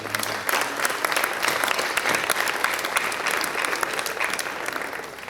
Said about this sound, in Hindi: आप अपनी इस मोहब्बत के लिए तालियां बजाइए, अपने आप के लिए